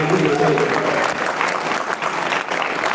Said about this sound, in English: Let's give a round of applause to Dr. Shah